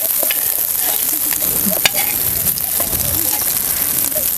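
Pieces of fish frying crisp in hot oil produce a loud, dense, continuous sizzle close by, with occasional light clinks and spatula movements in the pan.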